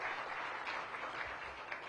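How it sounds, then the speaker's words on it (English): Brief applause from an audience at the topping-out ceremony for a regional medical center, a dense, fairly soft patter of many hands that stays steady through its short run. "Give her a round of applause."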